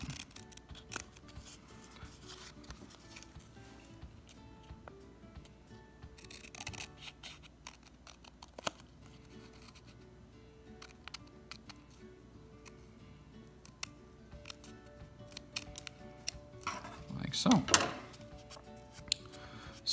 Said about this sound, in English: my next step is to very carefully, with a pair of scissors, trim off my excess